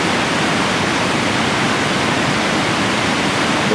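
A river near a Sequoia National Park campground rushes in a loud, steady, hissing roar of flowing water, close and continuous with no voices.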